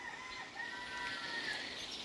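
A rooster and a hen in a small farmyard flock call softly at a distance, a brief crowing, clucking burst over a quiet background with no voices.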